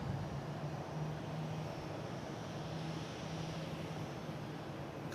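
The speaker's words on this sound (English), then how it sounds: "A couple other planes coming in as well, I believe." Airplanes coming in to land at Boston Logan International Airport make a steady, distant jet rumble with a faint wavering engine whine, continuous and unbroken throughout.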